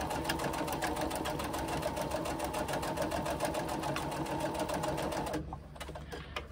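A sewing machine stitches a seam in a fast, steady hum of needle strokes, close and loud, then stops abruptly near the end, leaving quiet room noise.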